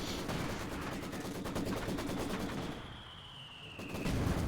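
Sustained machine-gun fire in the Company of Heroes 2 strategy game, a Wehrmacht versus Soviet match, with dense rapid cracks for about three seconds, a short lull, then the bursts resume loudly.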